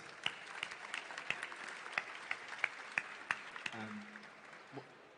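Applause from a conference audience after a startup pitch on a summit Q&A stage, a steady smattering of claps with a few sharp close claps standing out, fading near the end as a brief voice comes in.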